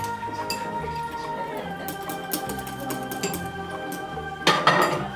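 Utensils scraping and clinking against a bowl as ingredients are mixed by hand for a shrimp burger, a steady run of small clinks with a louder clatter near the end, with no talk.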